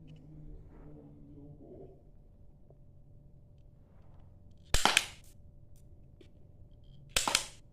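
A toy gun fires at a cardboard target with two sharp, loud shots a few seconds apart, standing out against a quiet background hum.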